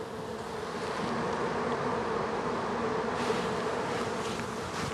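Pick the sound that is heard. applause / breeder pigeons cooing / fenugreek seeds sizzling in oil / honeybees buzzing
honeybees buzzing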